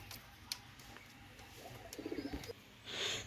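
Pakistani teddy pigeons coo softly nearby in a short, throaty burst of rolling notes, with faint rustling around them.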